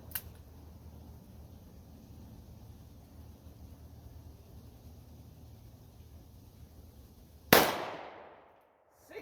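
A Ruger Alaskan revolver fires a single Speer 250 grain Gold Dot hollow point .45 Colt factory round: one very loud, sharp crack after several seconds of quiet outdoor background noise, then a fading echo.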